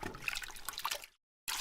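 A filter diffuser is washed in soapy water, giving a short splashing, trickling wash of liquid at close range that stops abruptly and then resumes.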